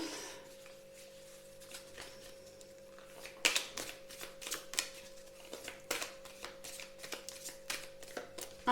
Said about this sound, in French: je remélange un tout petit peu et je vais faire ma coupe